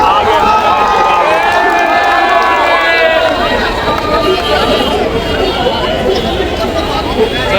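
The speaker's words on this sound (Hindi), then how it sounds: "काफ़ी हद तक भीड़ अभी मेरे को ऐसा लग रहा है कि डिस्पर्स हो रहा है" A protest crowd at Jantar Mantar breaks up, with a dense hubbub of overlapping voices, shuffling movement and scattered calls from many people nearby, loud and continuous.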